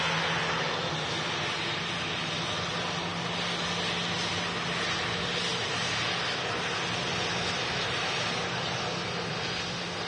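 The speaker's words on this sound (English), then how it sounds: "King of the Skies making an awesome noise." A Boeing 747 at Manchester Airport gives off a loud, steady roar of jet engines that holds unbroken throughout, broadband and powerful with no voices over it.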